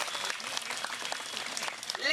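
An audience applauds at a public speech in India, steady dense clapping throughout with a voice speaking over it near the end.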